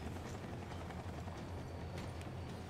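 A helicopter in the video game Max Payne 3 gives off a continuous rotor drone with a dense, steady whir that stays even and moderately distant throughout, with no talk over it.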